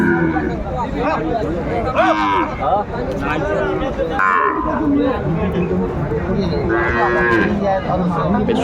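A Sahiwal bull calf moos repeatedly at a busy cattle market, loud and close, over a constant babble of buyers and sellers talking and bargaining nearby.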